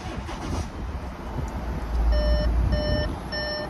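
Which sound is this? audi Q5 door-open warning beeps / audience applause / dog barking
audi Q5 door-open warning beeps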